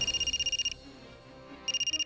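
A telephone rings unanswered in a domestic drama scene: a bright electronic ringtone warbles rapidly for under a second, pauses, then starts again, fairly loud and clear with no voices over it.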